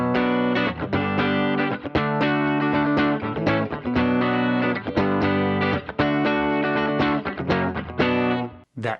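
Electric guitar on a Fractal preset, played through a pair of Bassman cabinets, strums rhythmic chords for about nine seconds, with a shimmering effected tone and short gaps between the chord hits.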